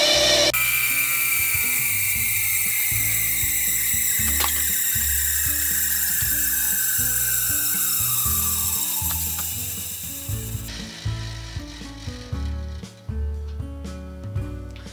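An unplugged bench grinder wheel spins down, its whining tone sliding steadily lower over about ten seconds before fading into faint ticking and rattling mechanical noise.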